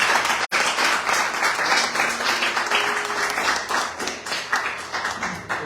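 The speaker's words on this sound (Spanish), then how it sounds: "Aplaudan. Denle gloria al Señor." A church congregation applauds together during a Spanish-language worship service, a steady, dense wash of clapping that carries on for several seconds with one sharp break near the start.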